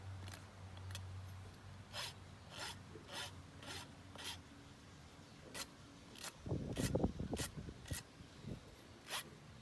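A metal rasp files a donkey's hoof during a veterinary exam, making a steady series of short dry rasping strokes, regular at first then rougher and louder near the end, close by with no talk.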